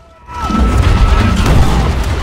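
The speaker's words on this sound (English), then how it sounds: "He just threw a grenade up there." Grenade blast in the video game Call of Duty: World at War, a sudden loud, deep boom that swells in and rolls on as a heavy rumbling roar.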